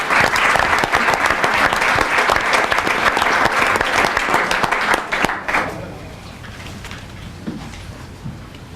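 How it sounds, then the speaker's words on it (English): A board of education meeting audience gives a loud, dense round of applause that holds steady for about five seconds, then stops abruptly, leaving quieter room tone with faint murmurs. "One more round of applause if we could, just for the group."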